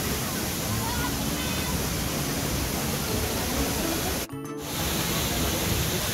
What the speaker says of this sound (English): Waterfall here is very strong, so you cannot swim over here.